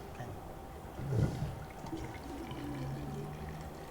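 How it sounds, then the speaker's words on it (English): Water poured into a tilted measuring cylinder in a classroom, a soft splashing gush that swells briefly then settles into a quieter trickle, faint and close. "Right, the water is filled."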